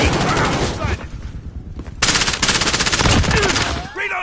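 Loud, dense machine gun fire in Call of Duty Modern Warfare, an extremely rapid continuous stream of shots close up, pausing briefly before a second sustained burst.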